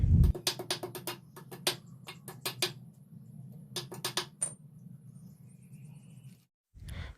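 A knife cuts through the spines of a koi fish: a series of sharp, clicking taps in uneven clusters against a hard surface, close by over a low background hum.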